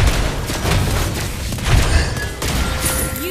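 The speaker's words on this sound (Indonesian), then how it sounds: "You destroy the turret." Turret destruction in the Mobile Legends mobile game, a dense barrage of booming blasts and crashing impacts layered over busy battle effects, loud and continuous with a heavier surge midway.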